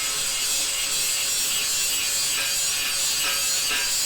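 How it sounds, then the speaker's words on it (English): A hand file rasps back and forth over a welded steel seam on a small wood stove near the flue stem, a close, steady, hissing scrape with no voices. "So I have to finish that last little bit above the flue stem with a file."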